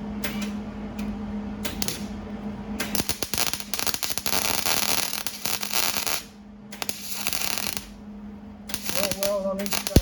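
Welding a small patch piece into a relocated wheel opening on a cab-over Chevy van conversion: close, harsh crackling bursts with brief pauses between passes, over a faint steady hum.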